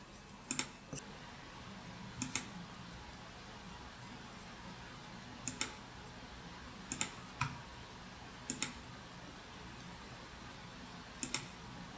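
Computer mouse clicks while drawing a polygon boundary in mapping software, about six or seven sharp, quiet clicks spaced irregularly over a faint steady room hiss, with no talking.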